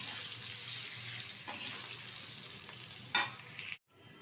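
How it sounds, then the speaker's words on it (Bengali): Potato pieces frying in oil, a soft steady sizzle close by with two sharp stirring knocks before the sound cuts off abruptly near the end. "এটা এখন ভালোভাবে ভেজে তুলে নেব একটা পাত্রে"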